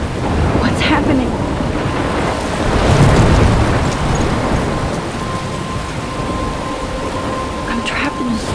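Thunderstorm in the video game Life is Strange: steady heavy rain roars throughout with a deep rolling swell of thunder near the middle, and a voice speaks over the storm.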